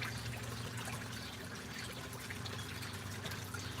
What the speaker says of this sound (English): It's picking up the water sound instead of me.